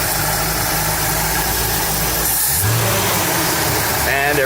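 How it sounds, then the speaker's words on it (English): A 1956 Chevy engine idles with the choke fully open, a loud, steady rumble that runs through the whole stretch with a short shift partway through. "It should be on the regular idle speed."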